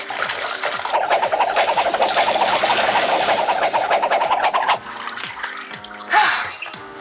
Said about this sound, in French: il faut bien rincer. Et longtemps.